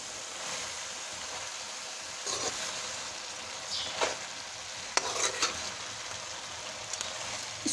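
Turnip greens bhujiya (shaljam leaves) frying in oil in a pan, a steady soft sizzle with occasional stirring scrapes and brief clicks, fairly quiet and close, no voices.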